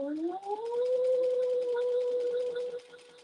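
Sewing machine motor runs while stitching a harmonica hobo bag, its whine rising quickly at start-up, then holding a steady pitch for a few seconds before easing off.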